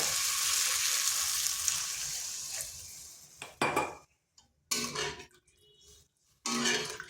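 Water poured into a pan of spiced, pre-boiled potatoes for a vegetarian potato-tomato dum curry, a steady loud pouring rush with clinks of pan and utensil, then a few short separate bursts of stirring or scraping.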